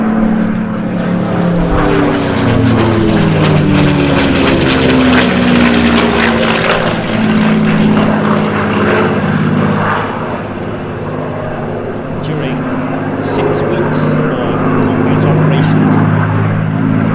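P-51 Mustang propeller warbird flying at the Jersey International Air Display, a loud, close engine drone whose pitch sweeps as it passes, over crowd noise with a voice talking.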